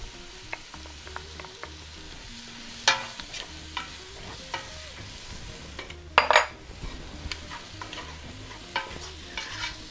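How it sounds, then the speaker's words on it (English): Onion and garlic frying in a pot of oil for chicken curry, a low sizzle broken by the scrape and clink of a utensil stirring at irregular intervals, with one louder rattle midway. "Make sure you stir the whole time so the garlic doesn't burn"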